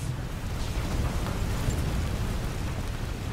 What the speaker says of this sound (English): That thing's gonna explode.